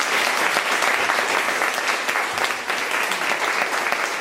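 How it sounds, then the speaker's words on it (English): An audience applauds at an AIGA Fellows ceremony, dense steady clapping from a full room that carries on evenly without a break. "Let's give another round of applause to Sam Shelton,"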